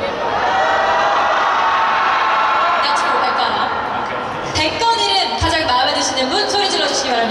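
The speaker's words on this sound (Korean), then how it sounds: "일단 첫 번째 이름부터 가장 마음에 드시는 분 소리 질러주시기 바랍니다" A large crowd at an Adidas 70th anniversary event in Korea roars and shouts in a sustained loud wave of voices, swelling as a voting cheer for the first name in a naming contest for David Beckham.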